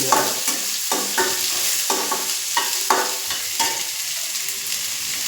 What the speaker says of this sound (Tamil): பெரிய வெங்காயமும் ஒரு பச்சை மிளகா போட்டு அதை நல்லா வதக்கி